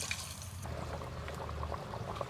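Water pours into a pot of country chicken curry with a soft continuous splashing, faint and close.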